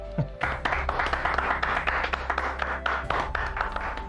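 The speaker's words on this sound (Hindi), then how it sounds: "इस बात पे तालियां तो बज सकती है।" A small audience at a health centre event claps in a quick, uneven patter that runs steadily for several seconds at moderate volume under a low background hum.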